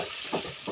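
Chopped black nightshade greens sautéing in a pan, giving a steady close sizzle with two soft bursts of stirring, no voices.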